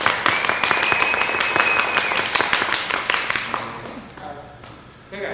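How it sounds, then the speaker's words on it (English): Audience at a cocktail competition clapping for a contestant, a dense burst of applause that thins out over a few seconds. "Can I get some claps for her?"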